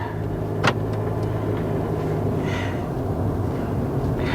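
A car drives along the road with a dash cam fitted inside, giving a steady low rumble of engine and tyre noise throughout, with one sharp tap early on.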